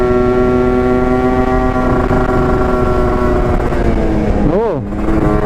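A two-stroke motorcycle engine buzzes loud and close while riding on a road, a steady high-pitched drone with harmonics that shift, and a brief sharp pitch sweep near the end.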